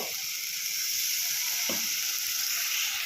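Egg masala curry sizzles steadily as it is stir-fried after a splash of water is added, a dense continuous hiss with faint scraping and one brief low knock partway through, no voices.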